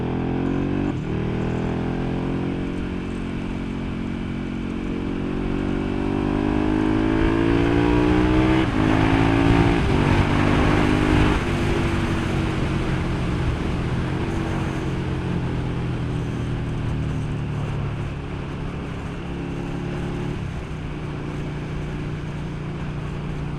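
A KTM 1290 Super Duke GT motorcycle on new tyres is ridden at a steady pace, its engine drone rising and falling through gears, with continuous wind rush over the microphone for over twenty seconds.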